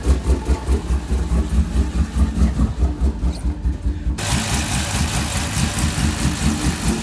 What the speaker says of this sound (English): So the initial startup, the emailed tune, I mean, that cam sounds gnarly.